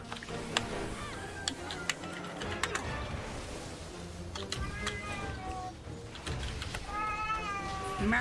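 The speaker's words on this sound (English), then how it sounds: "Meow. Meow." A cat meows several times at low volume over a busy, cluttered background. Scattered clicks and ticks sound throughout.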